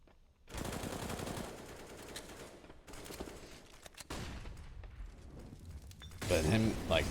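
FAMAS rifle bursts ring out in a Counter-Strike match, several rapid automatic volleys of gunfire mixed with game noise and a voice talking over the action.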